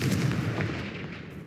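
A Confringo fire spell blast cast in the video game Hogwarts Legacy, heard as a loud, dense burst that fills the whole short moment and then tails off slowly, with no talking.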